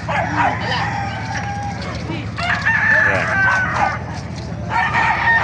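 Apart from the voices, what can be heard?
roosters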